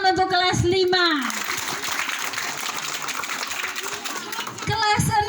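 Children applauding for a class 5 group at a school gathering: a dense burst of clapping swells after a voice and lasts several seconds, then fades as more children's voices return.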